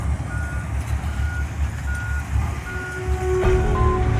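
A construction truck's reversing alarm beeps in a slow repeating pattern over a loud low rumble of engine and highway traffic beside a Florida Keys RV campground near the Overseas Highway.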